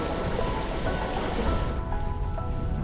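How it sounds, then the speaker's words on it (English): Dense, continuous rushing and bubbling of boiling water in a geothermal hot spring in Iceland, a broad churning roar with no voices, steady and fairly close. "Listen to that boiling water."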